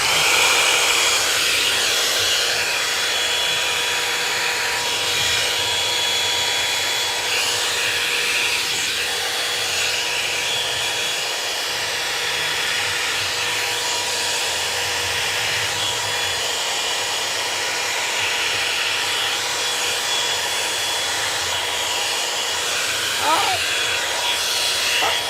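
A hair dryer blowing steadily at close range, a constant loud airy hiss throughout, with faint voices talking underneath.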